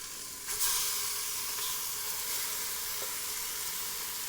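Lamb pieces hit a hot vindaloo pan with onion and turmeric, setting off a steady, close sizzle that swells sharply at the start and then holds a constant frying hiss, with a faint clink of stirring.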